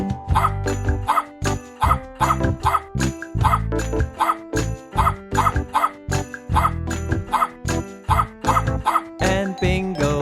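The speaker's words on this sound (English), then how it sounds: "a dog says woof" A dog barks woof repeatedly in a steady rhythm over a bright, tinkling nursery-rhyme backing track for a children's farm-animal singalong.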